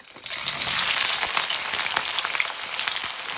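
Diced white onions dropped into hot oil crackle into a loud, dense sizzle that swells quickly and holds steady, with scattered pops and no talk.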